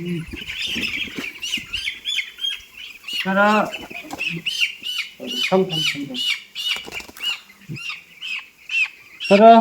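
Fifteen-day-old broiler chickens cluck and squawk continuously, a dense chorus of many birds close by, with a few louder calls rising above the flock.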